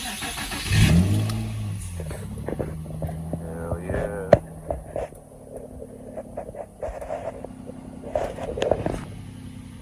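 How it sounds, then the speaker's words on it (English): A freshly rebuilt Infiniti G35 engine idles with a low throbbing hum and a few revs, close by, with a brief spoken word near the start. "The sound of a fresh new motor."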